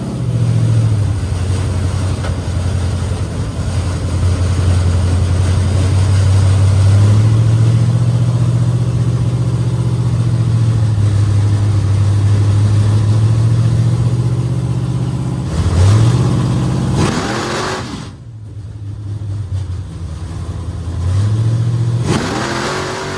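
A loud drag race gasser, a Henry J, idles with a deep rumble, then revs up hard in bursts near the end, drowning out everything else.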